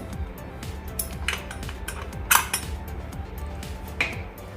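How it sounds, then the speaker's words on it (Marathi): A rubber gasket and whistle are pulled off a pressure cooker lid, giving a string of light metallic clinks, taps and small rattles. The sounds are irregular, close and moderately soft, with a sharper clink near the middle. "कुकरचा रबर आणि शिट्टी काढून घ्यायची आहे"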